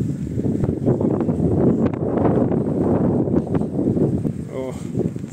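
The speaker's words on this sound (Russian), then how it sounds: "ветрено как" Strong wind buffets the microphone while riding along a street in Dublin, a loud steady rumble lasting throughout, with brief voice sounds near the end.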